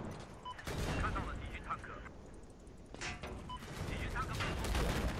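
Gunfire in the video game Battlefield, with bursts of shots and sharp impacts in a busy battle mix, heard under people talking.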